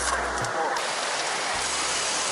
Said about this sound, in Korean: 여기에 물 나와요.